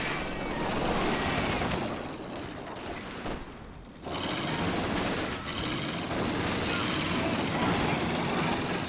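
Dense machine-gun fire and battle noise in the real-time strategy video game Company of Heroes 2, continuous rattling bursts with a short lull midway, fairly loud with a busy background.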